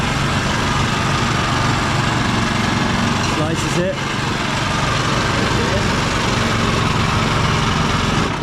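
A motorized sugarcane juice machine drones steadily and loudly throughout, with a brief spoken remark partway through.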